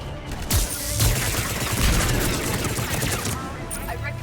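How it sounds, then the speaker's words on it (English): Dense, sustained gunfire from a turret in the video game Mass Effect 3, a steady rattling fusillade that runs throughout with a few sharper bursts near the start. "Yeah, the turret is still deadly."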